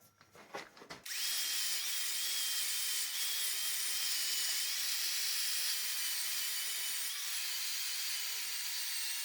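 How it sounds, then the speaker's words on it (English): A power sander grinds hardened Milliput filler off a turned wooden piece, starting after a second of handling knocks and then running as a loud, steady, high whirr. "So the next stage is to sand it down."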